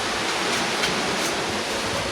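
Steady broadband rush of water pouring from a sink tap, continuous and fairly close, with no voices.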